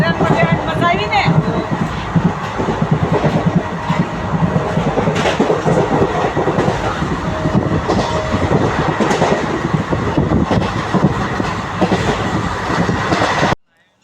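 A passenger train runs along with a steady clickety-clack of wheels and a rumbling carriage, loud and close from inside, while people talk over it until it cuts off abruptly at the end.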